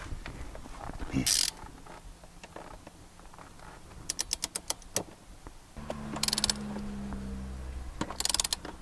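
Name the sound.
torque wrench with socket tightening truck front bolts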